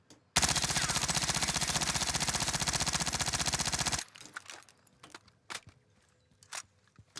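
PPSh-41 submachine gun in Warzone fires one long, rapid automatic burst for about four seconds, then stops, leaving a few scattered clicks and light handling sounds.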